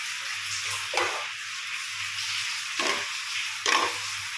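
Rice sizzles and fries in hot oil in a pan, a steady hiss broken by three scraping stirs of a spoon at irregular intervals, heard close with no talking.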